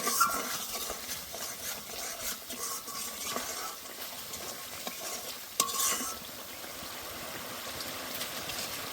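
Spices for a vegetarian jackfruit curry are stirred and fried in a pan where the oil has separated, with a spoon scraping repeatedly over a low sizzle and one sharp knock partway through.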